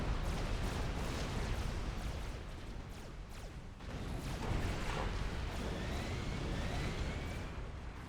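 Artillery in the Supreme Commander: Forged Alliance video game fires in a dense, continuous roar of booms and impacts, layered with battle noise, heard at a low level.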